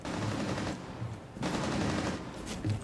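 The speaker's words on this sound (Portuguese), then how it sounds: "Tá rolando tiro aqui, mano." Bursts of automatic gunfire crackle in Rainbow Six Siege, several rapid volleys with short gaps between them, loud and close in the game mix.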